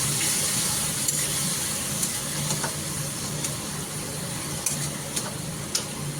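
Tomatoes fry in a pan with ginger garlic paste and are stirred. A steady sizzle continues throughout, broken by a few faint clicks and scrapes from the stirring, with no one speaking.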